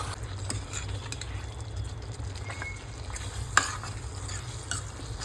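Chicken sukka masala stirred in a pan over a low, steady sizzle, with scraping strokes throughout and one sharper clink from the spoon about midway.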